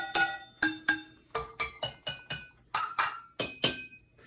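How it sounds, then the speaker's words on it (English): Spoons and forks taped to a Tupperware container are struck like a glockenspiel, giving about fourteen bright metallic clinking notes in an irregular melody, each ringing briefly and fading, close and alone. "here's the sound of our little home simulation."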